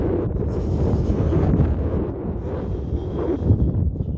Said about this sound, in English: That wind's picking up now.